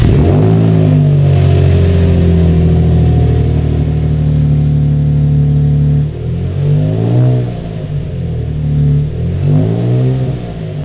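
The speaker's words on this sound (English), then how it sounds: "This is a race car now, so let's go drive it." A Nissan 350Z built into a race car, its engine roaring at a steady high pitch for about six seconds, then revved up and down in a few rising and falling pulls, close and loud with no talk.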